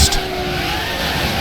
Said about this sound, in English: we are in Nick Heidfeld's car, going around Silverstone